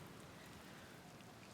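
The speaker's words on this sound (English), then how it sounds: "It's a good thing I never get bored of rain" Steady, soft rain hiss in the video game Outer Wilds, a faint even wash of droplets with no breaks and no voices.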